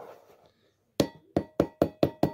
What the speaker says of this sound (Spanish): Lo enderezamos con el martillo.